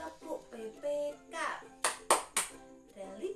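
A few sharp claps in quick succession from a group of Indonesian schoolchildren doing the 'Tepuk PPK' clapping chant, with young voices chanting and calling out around them.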